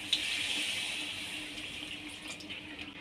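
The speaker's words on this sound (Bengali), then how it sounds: "এবার আমি জল ঢেলে দেব।" Water poured into a pan for a bottle gourd leaf curry, a steady continuous splashing stream, close and moderately loud throughout with no talking.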